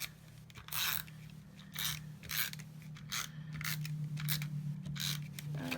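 A Stampin' Up Snail tape runner lays adhesive onto a card base in a quiet room, making repeated close scraping, ratcheting rolls in short bursts, about one each second.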